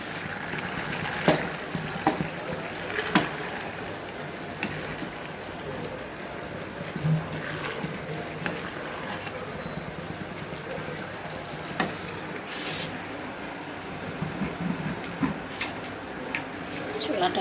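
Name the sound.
stirring peas frying in a pan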